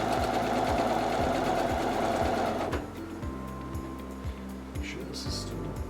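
Sewing machine stitching a 1/4 inch seam, a rapid rhythmic needle chatter that slows into distinct evenly spaced thumps, with a voice talking over part of it.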